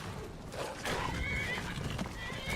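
In Skyrim, a horse under attack neighs and whinnies over hoof clip-clops, a faint, agitated burst set against game ambience.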